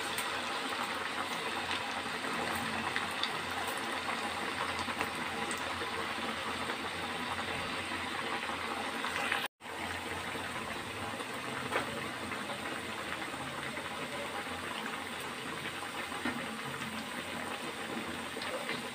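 Dal vadas deep frying in hot oil for Udupi-style chattambade, a dense steady sizzle and bubbling that fills the whole stretch at an even level, broken only by a momentary dropout midway.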